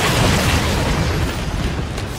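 A loud explosion in the action game Nioh fills the clip with a dense, rumbling roar that stays heavy for about two seconds before easing slightly.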